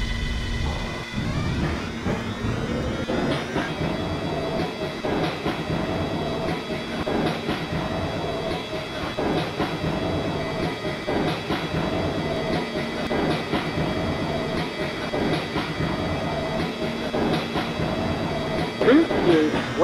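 An R143 Siemens subway train on the L line in the Roblox game runs steadily with a continuous rumble, rhythmic wheel clatter and a tonal motor whine, loud and close throughout, with faint talk at moments.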